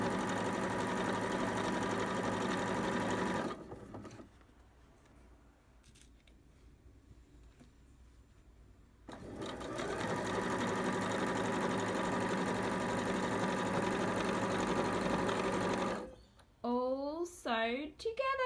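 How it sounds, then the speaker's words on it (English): Sewing machine stitching a fabric blanket runs in two long steady bursts of rapid mechanical whirring, pausing quietly in between, followed by someone speaking at the end. "just take your blanket to your sewing machine and you just want to sew all the way down"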